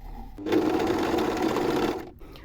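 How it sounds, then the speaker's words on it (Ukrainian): An overlock sewing machine stitches a pocket seam in one steady, close burst of fast motor whirring and needle chatter lasting about a second and a half, then stops. "І йдемо на оверлок."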